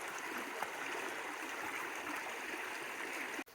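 A Missouri Ozarks spring flows with a steady, even rush of water throughout. It is soft and continuous, with no talking, and a brief knock near the end.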